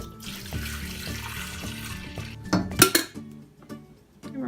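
Cold water poured from a carafe into a coffee maker's reservoir, a steady splashing stream over a low repeating hum, followed by a few bright clinks and knocks of the carafe and lid near the end.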